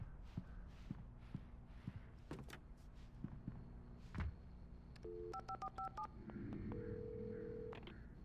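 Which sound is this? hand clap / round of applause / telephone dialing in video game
telephone dialing in video game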